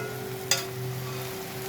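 Snake gourd, potato, onion and shrimp curry is stirred as it fries in a pan, a low steady sizzle with one brief scrape of the spoon and a constant hum underneath.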